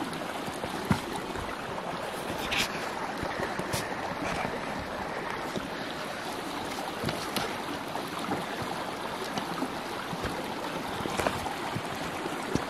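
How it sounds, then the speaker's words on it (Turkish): A stream flows in a snowy winter camp setting, a steady broadband rush of water, fairly close and continuous, with a few faint knocks and handling noises. "Hemen derenin üstündeyim."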